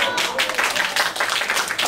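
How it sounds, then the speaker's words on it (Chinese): A group of children clapping at a hands-on science activity, marking a tied game; dense, steady applause, fairly loud, lasting the whole moment, with a few voices faintly mixed in. "鼓掌一下"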